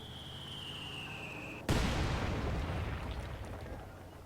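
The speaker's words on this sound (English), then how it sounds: "And that mortar is freaking huge." In Company of Heroes 2, a steady battlefield hum breaks into a sudden heavy mortar blast at about a third of the way in, followed by a long rumbling, crackling decay that gradually fades.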